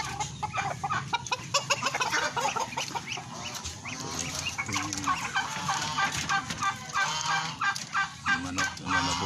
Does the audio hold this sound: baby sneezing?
no